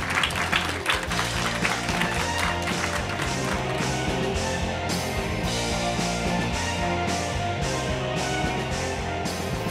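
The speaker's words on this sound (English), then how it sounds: "Can we have a round of applause for Miss Susan Cain" Live audience applause for Susan Cain at the 92nd Street Y, sustained clapping throughout with a low murmur of background sound beneath it.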